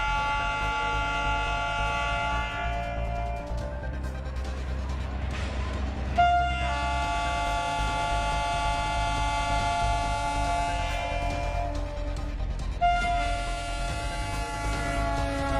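The Gonda Express train from Gorakhpur passes in replayed footage, its loud, sustained multi-tone horn blaring over a rumbling rail background, with the horn pitch shifting twice.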